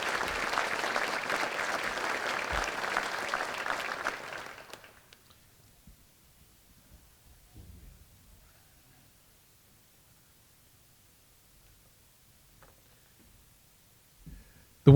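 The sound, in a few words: audience applause for young ladies at sports ceremony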